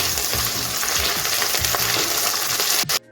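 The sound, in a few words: ginger paste sautéing with onions in a pan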